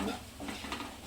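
A spoon stirs turmeric and Kashmiri chili powder into a small-prawn bhaji in a pan. Soft scraping and stirring sounds are heard briefly and quietly up close.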